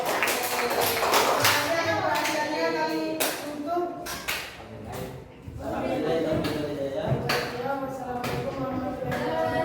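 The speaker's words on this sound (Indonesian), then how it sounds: "Beri tepuk tangan yang meriah untuk kelompok 3" Classroom applause for a student group after a presentation, bursts of clapping mixed with children's voices and chatter, fading briefly midway before rising again.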